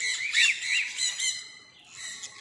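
Birds squawk in a walk-in aviary at a zoo in Indore, Madhya Pradesh, giving a run of harsh, shrill calls close by, with a few calls overlapping and easing off near the end.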